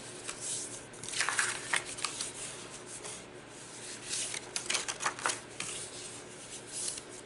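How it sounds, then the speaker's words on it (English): Paper card stock for an accordion photo card folded along its score lines, making soft close crinkling and rubbing rustles in short uneven bursts with quiet gaps between. "Let's fold in all of these score lines."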